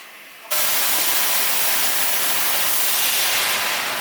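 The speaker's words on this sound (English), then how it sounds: "So you have to pour this water in it because it's gonna go." Water hits a hot pot of cooked onions and bursts into a loud, sustained hiss of steam. The sizzle starts abruptly after a short quiet moment and holds steady to the end.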